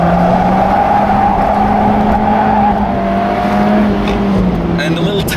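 A Mazda Miata driven flat out around a race track, its small engine droning steadily with a rising and falling engine note, loud and close throughout, with faint tire noise near the end.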